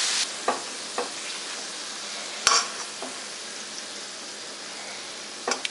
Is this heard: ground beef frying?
yes